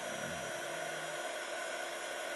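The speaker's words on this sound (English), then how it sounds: "you need to have a heat tool" A heat embossing tool gives a steady, loud blowing roar of hot air without pause, a continuous broadband whoosh with no voices.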